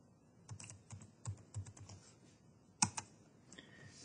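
Quiet, close keystrokes on a computer keyboard as a short command is entered, a few irregular taps followed by one sharper key press, likely the enter key, then a few softer clicks.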